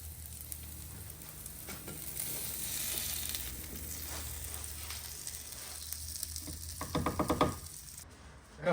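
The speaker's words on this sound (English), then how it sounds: "then we're gonna start cooking the burgers" Sausage-infused smashburgers sizzle on a camp griddle outdoors, a soft, steady fizz with a few louder crackles and scrapes toward the end.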